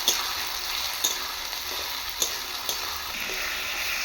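A paste of ground cumin, chili, ginger and garlic fries steadily in a pan, with a continuous sizzle and occasional scrapes of a spoon stirring it, close and fairly loud with no talk.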